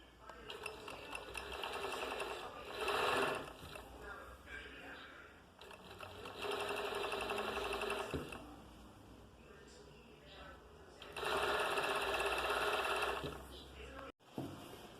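Sewing machine stitching a fabric cord for a garment, running in several steady buzzing runs of a few seconds each with short pauses between, close and moderately loud.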